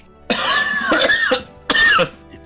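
A person coughs loudly and close up, two harsh bursts with a short pause between them, with no talk around them.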